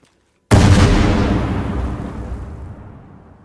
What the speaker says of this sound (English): That was a lot of grenades.